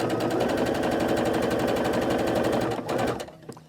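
A sewing machine back stitches a table runner seam with a fast, even run of needle strokes, close and steady, then slows and stops with a few faint clicks at the end.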